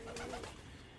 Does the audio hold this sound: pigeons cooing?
yes